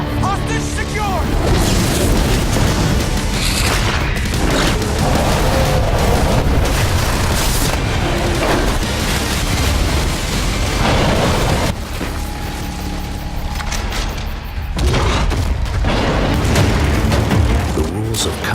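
Breaching charges blast in Rainbow Six Siege, a run of heavy, booming explosions packed densely together, loud and close, with voices shouting over the din.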